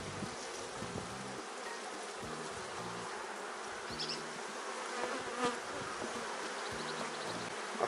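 Honeybees in an open hive being inspected give off a steady, close buzzing drone throughout, with a few brief knocks and handling sounds underneath.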